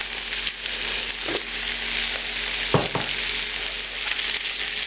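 Chicken pieces sizzle steadily in a hot pan at around 200 degrees, a dense close crackle with a couple of soft knocks partway through.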